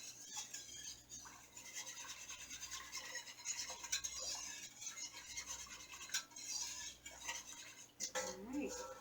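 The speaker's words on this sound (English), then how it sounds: "grab my whisk, and I'm going to whisk it together" Metal whisk scraping and stirring meatball sauce in a pot on a stovetop, a steady busy rasping clatter of wire against the pan, fairly close and continuous with a brief clank near the end.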